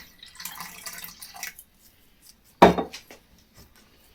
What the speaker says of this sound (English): just going to make this up now with a bit of water to 300 mils